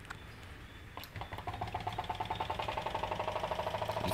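A homemade PVC Stirling engine with a speed control valve runs close by, its rapid, even mechanical ticking picking up after a brief start and settling into a smooth, regular rhythm, quiet and alone.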